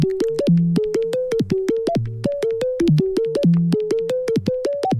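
A looping synth melody with stepped notes jumping between low and mid pitches in a steady, repeating rhythm, bright and upfront, no voices.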